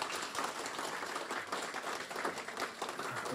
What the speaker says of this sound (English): Can I get another huge round of applause, please, for Te Pōhaiao?